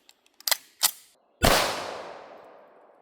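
A single loud .45 ACP 230 grain full metal jacket gunshot fired at a test target, a sharp blast with a long fading ring, preceded by a few small clicks and two brief handling knocks.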